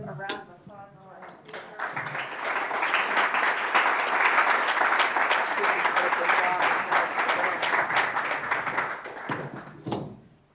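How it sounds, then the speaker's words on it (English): Audience applause at a talk on Indigenous boarding schools in Michigan, a broad sustained wash of many hands clapping for about eight seconds, rising after a brief spoken lead-in and tapering off at the end. "let's give a round of applause to our"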